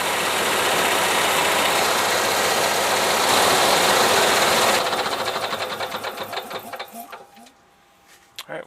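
An Onan 5500 RV generator engine runs steadily and loudly up close, then winds down into slowing rhythmic chugs and stops, with a voice speaking over the running engine.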